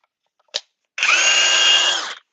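A Ridgid impact wrench gives a brief click, then a loud, close, high-pitched whir that runs steadily for about a second before spinning down.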